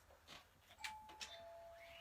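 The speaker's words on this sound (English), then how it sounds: "Great doorbell." A house doorbell chimes twice, a quiet two-note ding-dong with the second tone ringing out briefly, heard indoors and alone.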